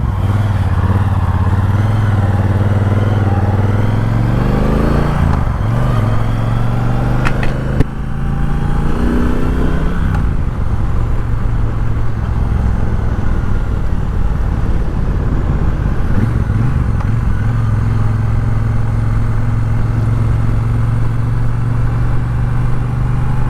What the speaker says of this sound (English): Triumph has really improved the exhaust sound of their motorcycles over the past few years